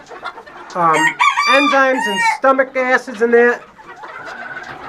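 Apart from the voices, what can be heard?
chickens clucking while eating whole kernel corn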